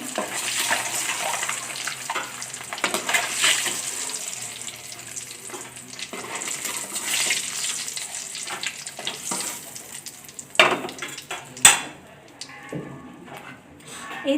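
Eggs fry in hot oil in a pan for a Bengali-style egg curry, giving a steady hissing sizzle with occasional louder spatters and clinks near the end.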